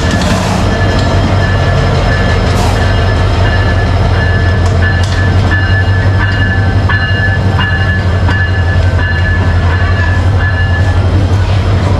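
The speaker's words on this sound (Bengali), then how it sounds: "এই যে দেখেন লালমনি এক্সপ্রেস ট্রেন, এটা কিন্তু এখনই দাঁড়াবে এই জায়গায়" The Lalmoni Express rolls loudly and steadily into a station on the Santahar route, its heavy rumble and wheel clatter continuous, with metallic squeals and bright rail tones riding on top.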